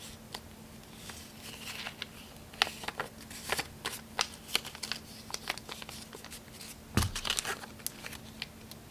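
Paper cash bills being handled and folded up close, with crisp crinkles, rustles and soft taps in an irregular patter against a faint steady hum, fairly quiet and with no talking.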